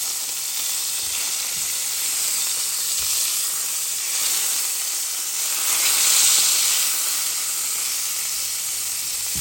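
Filet mignon searing in a hot pan, a loud, continuous sizzling hiss that swells and eases slightly, heard close up with no voices.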